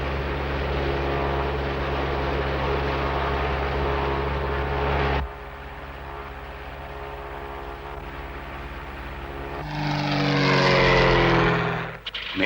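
A cartoon propeller airplane that has just been repaired and is failing in flight drones loudly and steadily with a buzzing tone. The pitch shifts midway, then rises into a harsher whine near the end.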